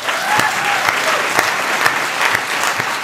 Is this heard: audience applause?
yes